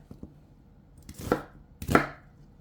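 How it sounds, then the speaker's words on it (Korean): An onion is cut coarsely with a knife on a board, giving a few sparse, distinct chops: two light taps, then two louder, separated cuts, close and clear in a quiet room. "듬성듬성 썰어서 넣어주고요"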